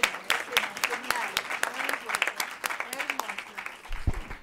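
Applause from a full auditorium audience on their feet at the close of a lecture on critical theory and gender politics, steady dense clapping throughout with scattered voices and a brief spoken word near the end.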